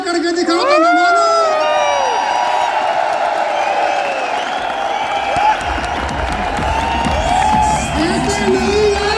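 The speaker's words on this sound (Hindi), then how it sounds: "खूब सारी तालियां, खूब सारा हाउला करके दिखाओ" A large crowd at a motivational business seminar in India claps, cheers and whoops loudly and continuously, with shouting voices and rising yells layered over steady applause.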